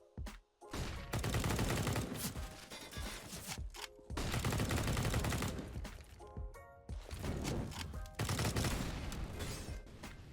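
Counter-Strike match on Nuke between Navi and Astralis, with dense bursts of rapid gunfire in three loud stretches broken by brief pauses and short electronic tones as flashbangs go off.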